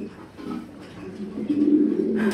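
Low, throaty pigeon coos roll on continuously at moderate volume, a soft burbling murmur that swells louder toward the end.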